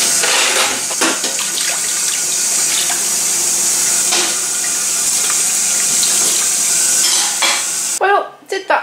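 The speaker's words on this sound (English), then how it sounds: "see how many dishes I can wash up" Dishes and cutlery washed up in a sink under a steady, loud running tap, with clinks and splashes throughout before the water cuts off near the end.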